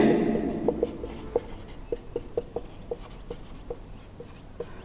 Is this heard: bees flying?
no